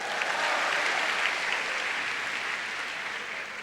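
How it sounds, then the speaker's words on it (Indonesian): Audience clapping at an Indonesian stand-up comedy show, a continuous even wash of many hands filling the room, holding steady and easing off slightly at the end. "Ya boleh tepuk tangan, boleh tepuk tangan."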